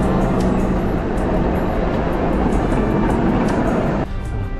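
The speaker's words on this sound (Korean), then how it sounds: "이거 트램 고풍스러운 거 봐요" An old-fashioned tram runs through a Budapest street beside the Danube, giving a steady, loud rolling rumble with broadband street noise that dips slightly near the end, with no voices.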